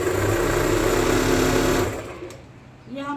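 A sewing machine stitches a patiala salwar, running loud and steady for about two seconds before stopping, followed by quieter handling noise.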